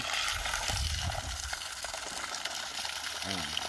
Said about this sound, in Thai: อันนี้เป็นแบต 12 โวลต์นะครับ เป็นแบต 12 โวลต์ 120 วัตต์ นี่คือน้ำที่ได้นะครับผม